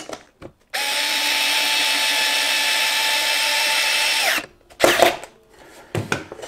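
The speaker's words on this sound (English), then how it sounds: "Forward screws, countersunk hole, and obviously the hole is in the base wood, which I've done, and then just start screwing in" A power driver runs one long steady burst of about four seconds, driving a screw into a countersunk hole in a wooden base for a Dremel 335 router table, followed by a few short bumps and handling knocks. No one speaks.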